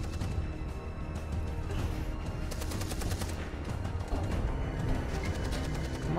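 Dense, continuous gunfire from a war scene in the video game Beyond Two Souls, with rapid machine-gun bursts layered over a steady roar of battle noise, loud and unbroken throughout with no voices.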